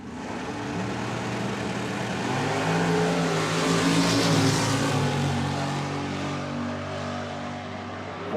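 A dragster roaring down the drag strip at a nitro racing event, a loud sustained engine howl that swells and holds for several seconds as it passes, no talking.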